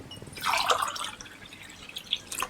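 Rice-soaking water being poured into a cooking pot with basmati rice for veg pulao: brief, faint splashing and a few scattered drips over a couple of seconds.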